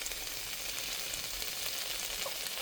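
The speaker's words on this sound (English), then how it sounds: "I'm going to add a little bit of garlic to this. And then I'm going to let this cook down until this stuff gets mostly soft." Garlic and onions cook down in a pan for onion soup with a steady, soft hiss of frying, even and fairly faint throughout, with no voices.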